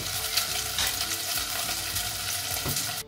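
Pork belly pieces sizzle and fry steadily in a thick-walled new pot, a loud continuous crackle with occasional stirring scrapes, no voices.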